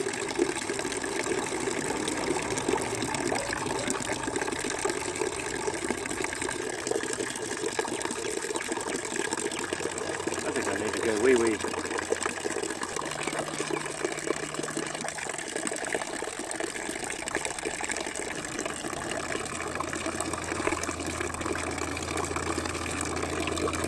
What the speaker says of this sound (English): drain all this water into buckets.